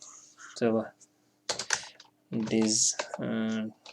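Keys tapped on a computer keyboard while entering text in a word processor, short bursts of quick clicks mixed with a person talking over them.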